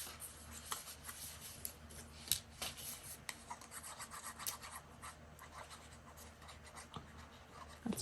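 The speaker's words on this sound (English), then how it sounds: "we're just going to glue this little tab on" Rubbing and pressing a small paper tab onto a handmade mini junk-journal book with glue, quiet dry scratchy strokes and taps repeating irregularly at close range.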